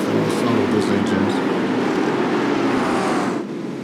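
Race car engines drone loudly in a Sebring racing video game, a dense, continuous motor roar that stays close and fills the whole stretch before easing slightly near the end.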